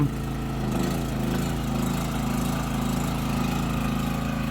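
A Champion C3200G hybrid generator runs on petrol under a roughly 3 kW load, giving a steady, close, continuous engine drone with an even low hum and no talk over it.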